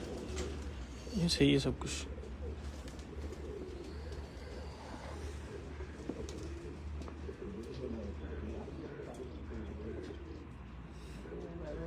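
Champion pigeons coo softly at close range, with a brief louder burst of cooing early on, while someone talks over a steady low background hum.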